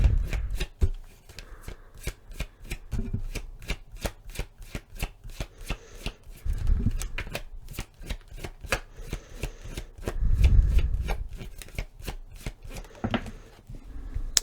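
Tarot cards shuffled and drawn by hand, a rapid series of crisp riffling snaps and slaps in irregular bursts, close up, with a few soft thumps and rustles between them.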